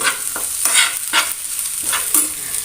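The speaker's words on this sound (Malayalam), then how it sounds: "എല്ലാം കൂടി തോരൻ ഒരുമിച്ച് മിക്സ് ചെയ്തെടുക്കാം അപ്പോൾ ആ മുട്ടയുടെയും നാളികേരും എല്ലാം ചേർത്തിയെടുത്ത് നല്ലോണം അങ്ങനെ ഉലർത്തിയെടുക്കാം" Drumstick flower thoran with egg and grated coconut stir-fried in a pan, a steady sizzle broken by repeated scraping strokes of the spoon at a regular rhythm, close and loud with no voices.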